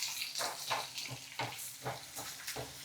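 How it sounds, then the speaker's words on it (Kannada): Large-cut onions frying in oil in a pan for onion chutney, with a soft, steady sizzle broken by repeated bursts of crackle and stirring, faint and close. "ಈರುಳ್ಳಿ ಚೆನ್ನಾಗಿ ಹುರಿಬೇಕು ಎಣ್ಣೆ ಜೊತೆಗೆ"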